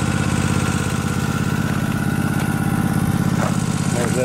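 A Snapper Pro 36 walk-behind lawn mower with a broken clutch runs nearby, its engine droning steadily and loudly for the whole stretch without letting up.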